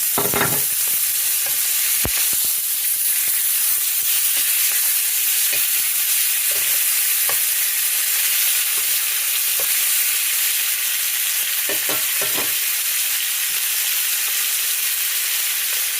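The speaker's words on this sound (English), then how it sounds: "Now, I'm going to go ahead and add some of that butter, again, unsalted butter." Unsalted butter sizzles steadily in a cast iron skillet over medium-low heat, a constant loud frying hiss for the whole stretch, broken by occasional sharp clicks and scrapes of a utensil moving through the pan.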